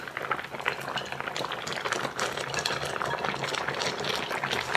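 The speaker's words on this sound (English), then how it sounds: "Cover with the lid and simmer for 15 minutes." Fish stew with tofu bubbles under a lid in an iron pot, a soft continuous simmer of small pops and gurgles, close and fairly quiet.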